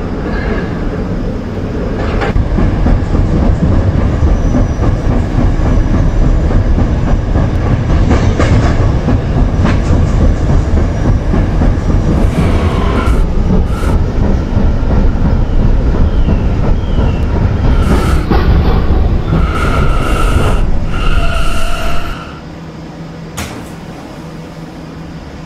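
A Roblox PTA Subway R179 D train runs along the 5th Avenue Lines with a loud, steady rumble and rattling wheel noise, some clicks and squeals near the end, then a sudden drop to a quieter hum as it slows.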